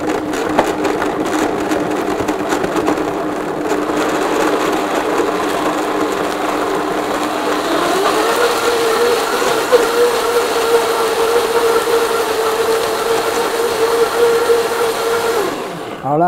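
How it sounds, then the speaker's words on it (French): A countertop blender purees coconut soup with turmeric and ginger, a loud, steady whirring drone that runs without a break and rises in pitch partway through as the speed climbs, then cuts off at the end. "On va commencer à mixer très doucement."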